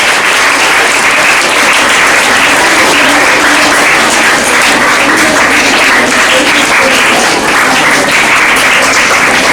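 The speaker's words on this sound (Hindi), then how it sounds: "तालियां बजती रहनी चाहिए।" Sustained applause from a school audience after students perform the school anthem, dense and steady clapping throughout, loud and close, with no voices standing out.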